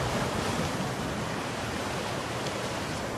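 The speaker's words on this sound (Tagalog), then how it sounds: "Maganda ang hampas ng alon ng dagat." Ocean surf near Kaybiang Tunnel at about six in the morning washes in a constant, loud broadband roar, with waves rushing against the shore and some wind buffeting the microphone.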